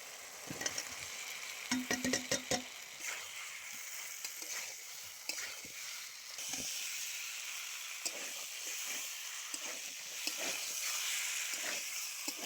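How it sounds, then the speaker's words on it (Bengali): Chunks of jackfruit and potato fry in oil with ground spice paste. A steady, close sizzle and hiss runs throughout, broken by occasional scraping and clattering stirs. "ইঁচড় আলু খুব বেশ কিছুক্ষণ কষিয়ে নিয়েছি"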